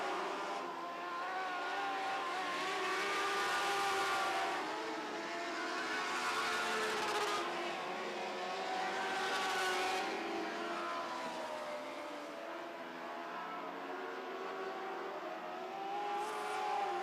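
Lightning Sprints race cars scream down the back straightaway near 100 mph, a sustained high-pitched engine roar that swells and fades as several cars pass in turn at a dirt track feature race.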